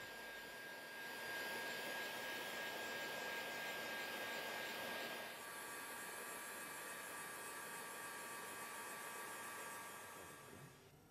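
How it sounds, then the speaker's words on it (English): A heat gun blows hot air onto car wrap film, giving a steady, loud, broadband whoosh that holds nearly constant throughout before easing slightly at the very end, with no voices. "The reading point is directly behind the flow of air from the heat gun."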